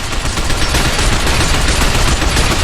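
Sustained, dense automatic gunfire from the video game Binary Domain, a loud continuous barrage of rapid shots with no pauses, heard on its own without any voices.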